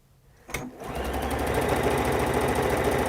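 After a sharp click, a sewing machine starts up and stitches quilt pieces at a quarter-inch seam, settling into a fast, even, continuous stitching rattle close by.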